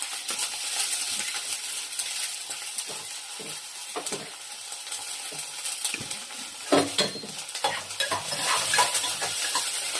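Onion pieces frying in hot oil with tempering seeds in a home kitchen pan: a steady bright sizzle throughout, with scattered clinks and scrapes of a stirring utensil and a louder crackling flare near the middle.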